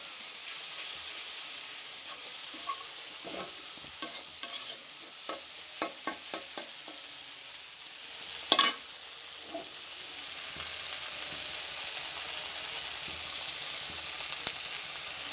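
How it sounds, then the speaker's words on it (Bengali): Spices fry in oil in a pan for a tarka, giving a continuous soft sizzle broken by repeated scraping and stirring strokes, with one sharper clack midway. "আমি এখানে সব মশলাগুলো দিয়ে দিয়েছি। এখন এটা ভালোভাবে কষিয়ে নেব।"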